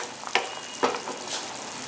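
Minced lamb meatball curry (kari urundai kulambu) simmers uncovered on a medium flame, giving a soft, close hiss with two brief bubbling spurts.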